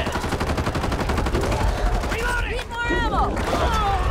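Rapid automatic gunfire from a video game rattles on continuously and loudly, with excited voices talking over it and a few electronic zaps near the end.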